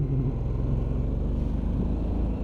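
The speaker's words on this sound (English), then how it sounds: "Has some power to it if you twist the throttle a little bit." A Harley-Davidson Sportster S motorcycle engine rumbles steadily and close, with a deep, even drone throughout.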